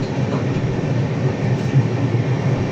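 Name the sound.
train hauled by a WAP-7 locomotive on ghat section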